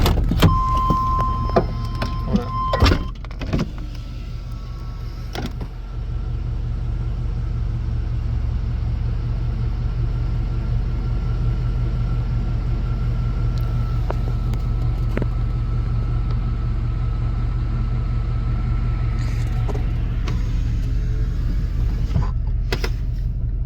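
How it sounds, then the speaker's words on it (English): A 1995 Chevy K1500 pickup with a 5.7-liter TBI V8 idling after start-up, a steady low rumble held throughout with a few faint clicks and knocks near the start, close and without speech. "Like, even listen to the truck now."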